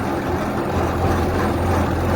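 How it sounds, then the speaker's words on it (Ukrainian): A neighbour's tractor engine on a farm during late wheat sowing, a steady low rumbling drone, close and continuous, with no talking. "Там їде сусід на тракторі."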